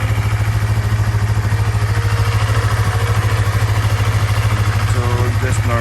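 A Yamaha MT-03 motorcycle idles after a cold start with a loud, close, steady throb whose rapid regular pulse lasts the whole stretch, while voices talk faintly underneath.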